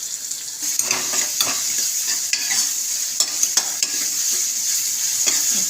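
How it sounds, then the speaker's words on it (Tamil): Onions sautéing in a pan for Tamil-style chicken gravy, a steady bright sizzle with scattered scraping stirs and light utensil taps against the pan throughout. "வெங்காயம் கொஞ்சம் வதங்கட்டும்."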